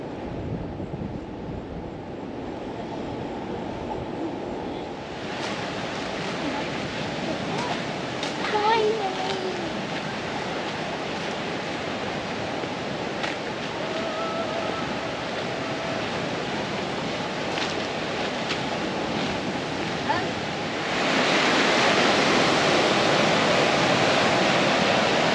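Ocean waves wash onto Cylinder Beach on North Stradbroke Island in a continuous, broad surf roar, with wind buffeting the microphone and the wash swelling louder near the end.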